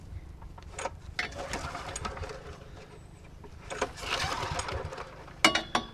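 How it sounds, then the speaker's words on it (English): A small generator engine chugs steadily in the background, rough and mid-pitched, with clattering handling noises and bumps over it; fairly faint overall. "That is a crazy generator."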